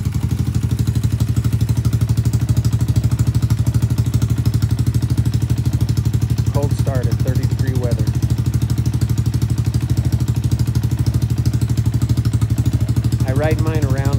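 A 2020 Boom Vader BD125-15 motorcycle runs steadily just after a true cold start, its loud, even idle droning without pause throughout, with a few brief voice-like sounds or squeaks briefly breaking in over the engine.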